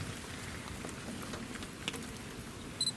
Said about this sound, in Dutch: Happy days in the rain.